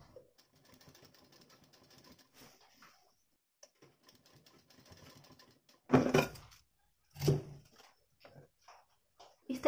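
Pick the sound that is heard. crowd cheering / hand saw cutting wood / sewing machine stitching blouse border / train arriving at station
sewing machine stitching blouse border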